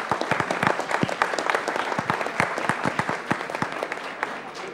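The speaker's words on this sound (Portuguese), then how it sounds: "Vamos aplaudir a apresentação da equipe relatora." Spectators at a Brazilian physics tournament final applaud a presenting team, with distinct individual claps standing out sharply over a steady, moderate bed of clapping from a modest crowd.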